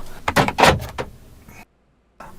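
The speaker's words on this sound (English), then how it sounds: "That should lock the van, but I don't think it is." A van's doors lock with a few quick mechanical clunks and a short whirring actuator burst, close by, then brief silence before faint ambient noise returns.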